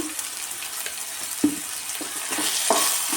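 Tomatoes and salt sauté in a pan for a crab curry. Soft, quiet sizzling runs throughout, broken by a few sharp stirring clinks and scrapes.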